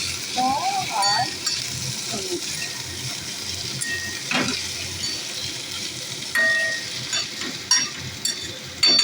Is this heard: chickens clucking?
no